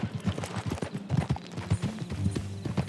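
Horse hooves clip-clop steadily over ground in Red Dead Redemption 2, a brisk, close rhythmic patter of shod hoofbeats carrying on throughout the stretch with no voices.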